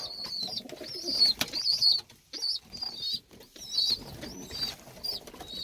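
Tumbler pigeons in a crowded coop give repeated low coos, with wing flaps and shuffling among the birds at close range.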